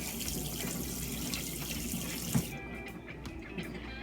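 A kitchen tap runs cold water steadily for mixing flour into dumpling dough for Jamaican red peas soup, then shuts off with a few faint drips and clicks.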